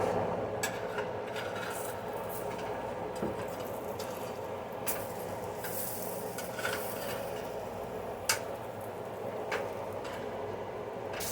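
Biscuits cooking on a griddle from a 1908 recipe give a continuous close hiss with soft scraping and rubbing textures and occasional light knocks, with no talk.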